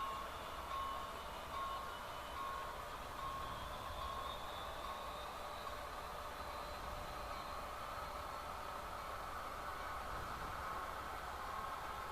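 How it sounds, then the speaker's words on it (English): An HO scale model train rolls through a crossover with a soft, steady rumble and faint wheel hiss, quiet and continuous throughout. "you can see the train crossing over"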